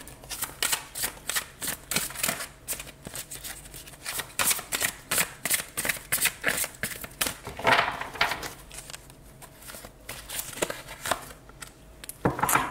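Tarot cards are shuffled by hand in a close, continuous run of papery riffles and soft slaps, with a quick flurry near the end.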